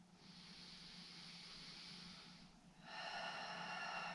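Slow yoga breathing heard up close and quietly: a long, airy inhale through the nose, a brief pause, then a brighter hissing exhale. No talk over it.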